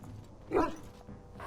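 A single close, mid-pitched bark comes from a dog in Dragon Age: Origins, sounding once over a quiet hum of game background.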